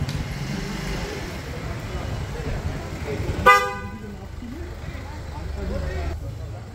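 A car honks once with a short, sharp toot as it comes down a winding hill road, its engine rumbling nearby while people talk over the noise.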